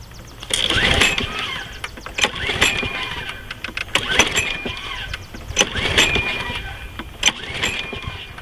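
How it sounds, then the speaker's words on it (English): A Troy Bilt self-propelled lawn mower with a 6.75 HP Briggs & Stratton engine, leaking gas, is cranked outdoors with repeated pull-cord rattles and whirring pulls that never catch, several attempts in a row. "I'm going to see if this thing will start now."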